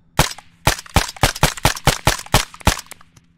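Rapid gunshots in Arma 3 on the island of Stratis: about nine sharp, loud, close reports fired in a quick, slightly uneven rhythm, ending with a faint echo.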